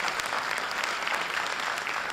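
Audience at a memorial lecture applauding a rangoli artist: steady, even clapping from many hands, continuous and moderately distant throughout.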